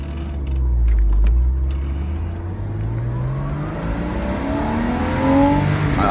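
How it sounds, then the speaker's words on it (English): A 1998 Porsche Boxster, the non-S model, accelerates on a test drive, its engine induction noise rising in pitch through gears with a brief shift dip, loud and close from inside the car. "Oh, do you hear that induction noise?"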